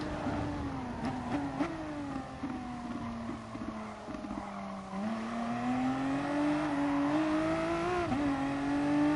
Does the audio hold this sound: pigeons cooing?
no